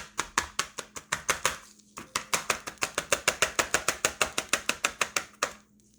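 A Kittfe chef's knife dices food on a cutting board in quick, steady chops, a fast even rhythm of sharp taps with a brief pause partway through, close and alone.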